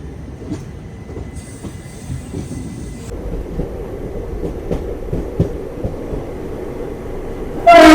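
The Khandesh Express rolls through Bandra station on the Western line, heard from on board as a steady, loud rumble of wheels and rattling carriages, with a brief high whine early on and a sudden loud burst at the very end.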